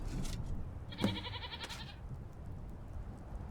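A goat in a video game gives a short bleat mid-clip, heard over a low ambient game backdrop.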